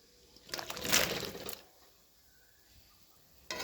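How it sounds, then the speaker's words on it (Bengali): Pieces of taro drop into a pot of boiling water, giving a short splashing, bubbling burst that fades to quiet simmering before another brief noise at the end. "এবার আমি জলটাকেও কচু দিয়ে দেবো জলের মধ্যে"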